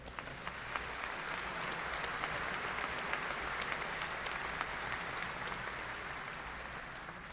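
A commencement ceremony crowd claps steadily in a large hall, broad and sustained applause with a few sharper individual claps standing out, fairly distant and even throughout.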